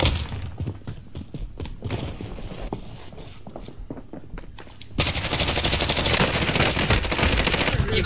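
Rapid machine-gun fire in Warzone, with steady bursts of shots and thuds early on, then a loud, dense, continuous barrage in the last few seconds.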